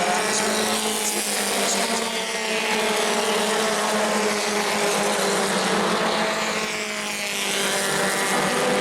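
Several Bomber class stock cars bunched closely in a race at New Smyrna Speedway, their engines roaring loud and continuous as the pack sweeps around the track, with no one talking.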